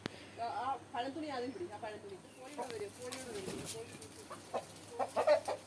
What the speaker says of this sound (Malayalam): എൻ്റെ കോഴികളെ നിങ്ങൾക്ക് കാണിച്ചു തരാം